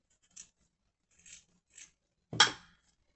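Scissors snip through adhesive medical tape on a spool, a few short, crisp cuts spaced apart in a quiet room, ending with one louder, rasping snip.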